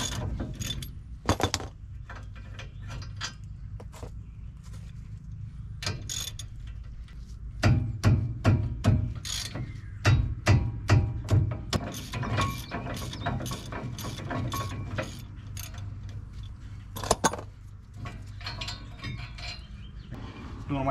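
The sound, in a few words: hand ratchet removing brake caliper bolts, Ford F-250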